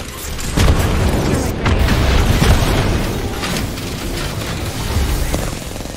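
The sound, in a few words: frag grenade exploding in video game Apex Legends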